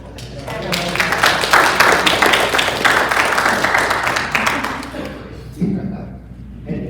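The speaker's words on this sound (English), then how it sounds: "I got applause" Audience applause at a veterans hiring event, a dense burst of many hands clapping that swells quickly and holds steady before tapering off, with a few voices breaking through near the end.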